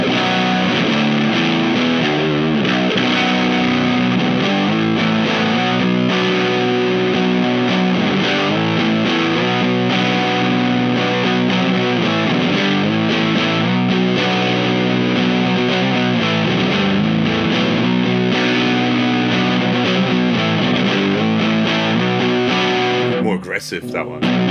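Squier J Mascis Jazzmaster in B standard tuning played through a Muff-style fuzz pedal, a thick, saturated distorted guitar riffing steadily and loud for over twenty seconds before stopping abruptly.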